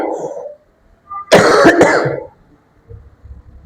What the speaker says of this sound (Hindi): बहुत जबरदस्त खांसी आ रही है